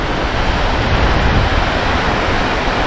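Large waves break steadily on an off-season beach on Gozo, Malta, with jellyfish washed up along the shore. The surf roars as a loud, continuous wash, and wind buffets the microphone.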